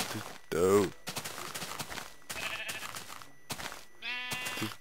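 Minecraft sheep give several wavering bleats at irregular intervals, close and clear, interspersed with someone talking and some game footstep sounds.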